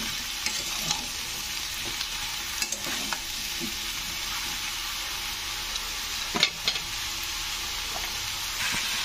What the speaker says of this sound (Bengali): লাউগুলো দিয়ে ভালো করে আমি এটাকে কষে নেবো একটু।